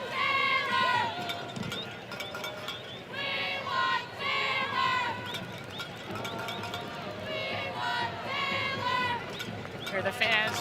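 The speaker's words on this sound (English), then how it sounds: "Hear the fans cheering" Stadium fans at a women's professional soccer match between Halifax Tides FC and Ottawa Rapid FC cheer and roar in loud, swelling waves, with a commentator talking over the crowd throughout.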